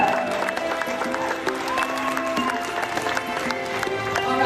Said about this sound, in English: how about another big round of applause for our beautiful tigers and our awesome tiger handlers today